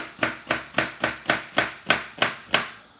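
Okra is chopped on a chopping board with a knife, nine crisp, evenly spaced knocks in a steady rhythm, close and clear with no talking.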